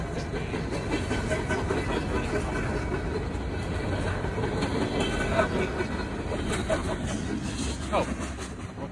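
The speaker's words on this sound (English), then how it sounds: "Oh, well, there's the end of the train." A train rolls past on the railway with a steady broadband rumble and faint clickety-clack, loud and close throughout, heard outdoors during a bike ride with a voice briefly speaking over it.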